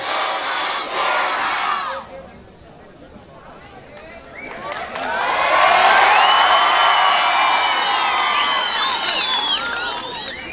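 A large crowd at a political rally in Aurangabad roars in answer to a leader's call, shouting slogans in unison; one burst fades, then a bigger, louder wave of chanting and cheering swells and holds.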